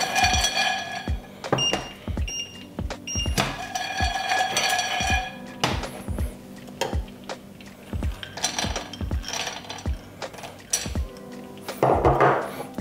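Cashews and almonds dry-toasting in a pan without oil, with repeated metallic clanks and clattering of nuts against the pan, a steady busy rattle punctuated by sharp knocks, close and fairly loud.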